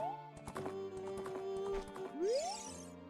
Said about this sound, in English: She's this horse. Her name is Epona